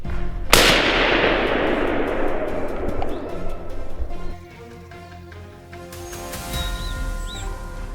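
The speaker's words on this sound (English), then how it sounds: "A sharp gunshot rang through the forest" A single loud, sharp rifle shot fired at wild hogs in an Arizona forest, followed by a long rolling echo that fades into bird calls and cooing.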